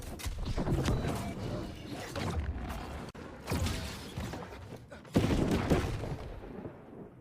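Musket gunfire in the video game New World booms out in several loud, separate shots amid busy PvP combat noise, with a heavy blast near the end.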